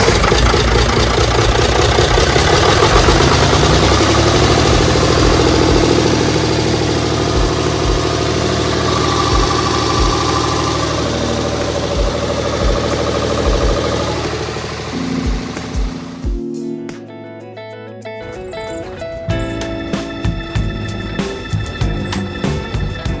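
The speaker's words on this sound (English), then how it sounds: "fire it up and see if diesel comes out" A Routemaster bus diesel engine, bus 1009, runs loud and close with a deep steady throb, then falters and cuts out before restarting into a rougher, pulsing idle, with no talking.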